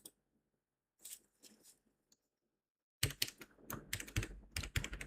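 Computer keyboard typing during a Python programming lesson: a few faint isolated keystrokes early on, then a rapid, dense burst of close, clicky key presses over the last two seconds.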